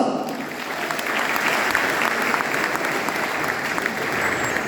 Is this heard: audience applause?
yes